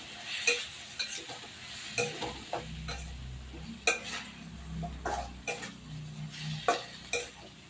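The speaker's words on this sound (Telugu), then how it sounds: "కారం వేసుకున్నాక జస్ట్ 10 సెకండ్స్ కలిపి స్టవ్ ఆఫ్ చేసుకుందామండి." A spoon scraping and stirring chili powder in a pan of tomato mixture with a soft sizzle of hot oil, in steady, regular strokes up close.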